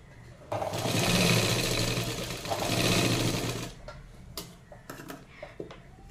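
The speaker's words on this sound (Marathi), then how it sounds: "आता इथे पण मी शिलाई मारून घेणार आहे." A sewing machine stitches katori blouse fabric in a steady close whir for about three seconds, then stops, leaving a few light clicks and handling taps.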